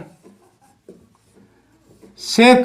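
Chalk or marker scratching on a classroom board in short faint strokes, followed near the end by a teacher's loud close voice.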